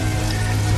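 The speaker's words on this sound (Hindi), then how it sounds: "पूरा घर बारिश के पानी में भीग गया।" Heavy cartoon rain pours down on a poor family's hut during a sudden storm that blew the roof off, a dense steady hiss with a low rumbling bed throughout, no voices.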